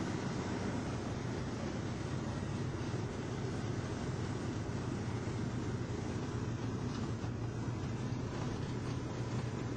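A small propeller airplane on approach to land at a controlled airport in Naples, Florida, late in the afternoon. A steady, loud, dense engine drone fills the cabin without letting up, and no one speaks.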